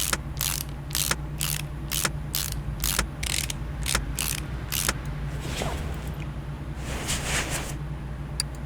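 Repeated ratcheting clicks from tightening car parts in the Car Mechanic Simulator 2018 video game, a rapid run of about a dozen sharp bursts, then softer mechanical rattling over a steady low hum.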